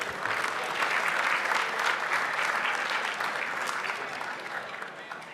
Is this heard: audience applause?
yes